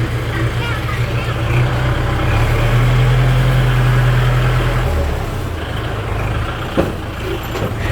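A large truck rolls in close and loud, its deep engine rumble swelling and then settling into a steady idle, with a brief knock near the end and a voice heard over it.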